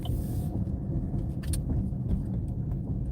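A car creeping slowly through a residential cul-de-sac, its engine a low steady rumble with faint road noise and a few light clicks, close and continuous.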